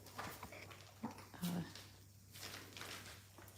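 Foster puppies about six weeks old whimper and yelp in faint, scattered bursts indoors over a low steady hum.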